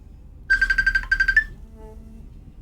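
A phone ringtone chirps in two quick bursts of rapid, evenly pulsed electronic tones, loud and close, followed by a brief pause and faint low tones.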